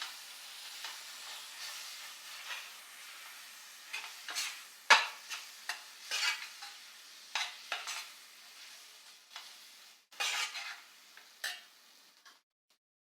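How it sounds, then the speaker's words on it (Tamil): Stirring a coconut ladoo mixture of grated coconut, cardamom and condensed milk in a pan, soft irregular scrapes and light taps of the spoon, fairly quiet and close. "நல்லா கிண்டி விட்டுருங்க."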